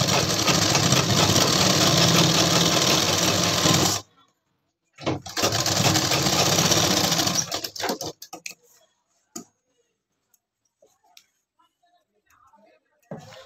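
Sewing machine stitching trousers near the pocket while attaching a belt, loud rapid mechanical running in two bursts separated by a brief pause, then near silence with a few faint clicks and handling noises.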